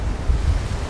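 Ocean surf washes in steadily on Myrtle Beach, South Carolina, a continuous low rumble mixed with wind buffeting the microphone, close and fairly loud, with no talk.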